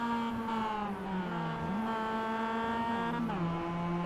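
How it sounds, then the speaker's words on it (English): A race car in iRacing at Brands Hatch drones steadily with a loud, continuous engine tone whose pitch dips briefly as it bogs under trail braking through a corner, then holds and drops again. "We heard the engine bog down like he was dragging the brake to trail brake the car through the corner"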